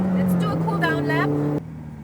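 A Ferrari sports car, either an F8 Tributo or a 488 Pista, cruises on a cool-down lap with a steady engine drone heard from the cabin. A voice talks over it, and the sound drops away sharply near the end.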